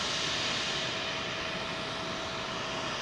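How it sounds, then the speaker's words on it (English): An Etihad airliner moving at London Heathrow, heard as a steady, broad jet engine roar that stays at a constant level through the short stretch, with no voices. "Etihad green liner"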